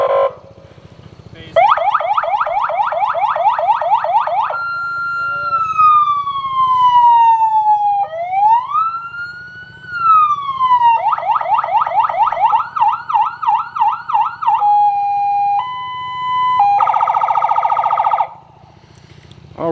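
A 200cc off-road UTV buggy's electronic siren unit cycles through loud wailing, yelping and warbling police-style tones and alarm patterns, one after another, close by and with no talking.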